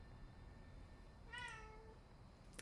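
A domestic cat gives a single faint meow, heard alone over a low background hum, with a brief sharp sound just after.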